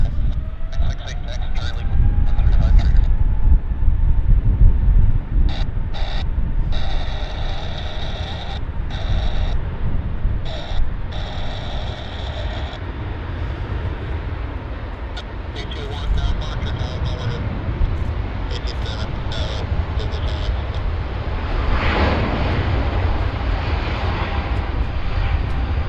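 A heavy airliner departs Vancouver Airport with a continuous, broad jet roar at moderate distance, steady and swelling slightly toward the end, while people talk intermittently nearby.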